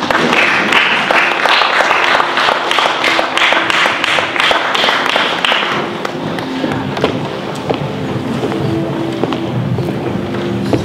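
Loud, sustained clapping from a gathered crowd at a 50th birthday celebration with a blessing, crisp and rhythmic for about six seconds before thinning into a softer, busier wash of claps and movement.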